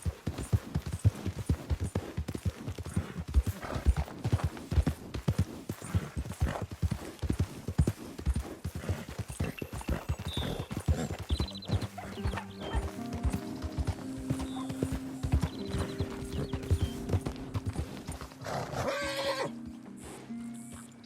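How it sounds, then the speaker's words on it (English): Horse hooves clip-clop in steady rhythm in the video game Red Dead Redemption 2, with occasional whinnies and soft ambient game sounds toward the end. "How's that horse doing?"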